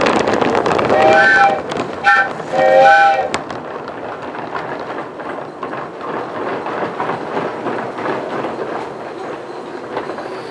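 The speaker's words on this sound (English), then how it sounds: "the loaded coal train returns from the mine run" Loaded coal train rolls past beneath a coaling tower after a mine run on the Union Railroad, with a steady rumble of cars and wheels, several whistle toots early on, then continuous clattering passage close by.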